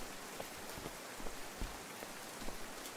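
Rain falling in the Outbound video game, a soft, steady hiss of drops on surfaces with occasional louder individual splats, fairly quiet and without voices.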